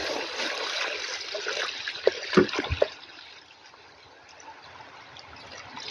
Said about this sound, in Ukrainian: Зараз вилю сюди відро води,